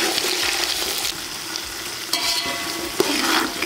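Whole peeled shallots with garlic and dried chillies frying and being stirred in a pan of hot oil, a steady close sizzle with scraping stir noises, no talk.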